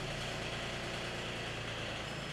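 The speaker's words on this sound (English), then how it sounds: "start the engine and allow it to idle for 30 seconds" A Polaris Pro XD full-size diesel utility vehicle engine idling after an oil change, a steady, loud, dense drone that holds evenly throughout.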